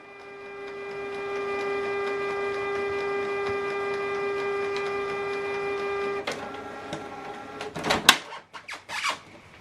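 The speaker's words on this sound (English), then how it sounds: "Switch the printer on." A Canon PIXMA MG3600-series inkjet printer powers on with a steady electronic whine and hum, then shifts into a burst of mechanical clicks and whirring as its parts move.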